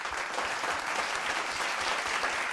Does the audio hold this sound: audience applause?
yes